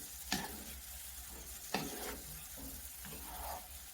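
A thick mango mixture of cornstarch and butter is stirred and turned in a pan, soft sizzling and sticky scraping up close, with a couple of sharper clicks of the utensil against the pan.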